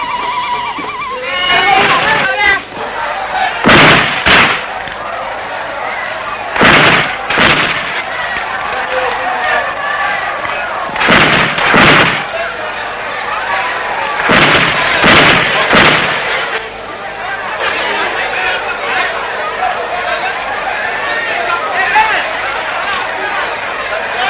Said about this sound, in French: avec les vieux fusils à pierre des guerres d'autrefois, et leur fusillade salue chaque jour le départ de leur chef